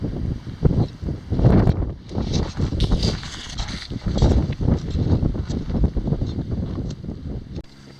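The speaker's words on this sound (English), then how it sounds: "It's really windy and cold, so let's go hike up the hill." Strong wind outdoors on a cold hillside near an old mine waste pile, roaring and buffeting against the microphone in loud uneven gusts that rise and fall throughout, with no voices.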